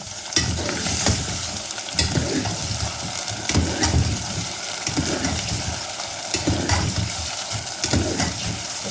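Bone-in beef pieces frying with onions in a pot, a steady loud sizzle broken by repeated scraping stirs every second or so, close up, with no talking.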